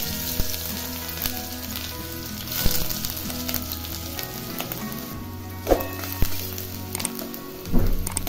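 Onion fries in oil with mustard seeds and cumin for a sprouted moth bean usal, giving a strong continuous sizzle close up with occasional louder pops and stirring scrapes. No one speaks.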